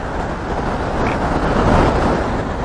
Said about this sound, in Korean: 물살이 엄청나네요. 물살이 정말 센데요.